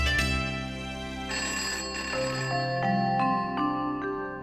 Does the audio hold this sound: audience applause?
no